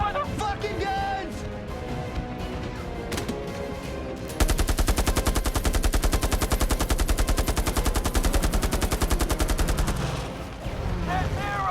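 Machine gun fire from a battle scene in the film Midway, with scattered shots and action noise giving way to a long, loud, rapid, steady burst that stops abruptly, then the battle din resumes.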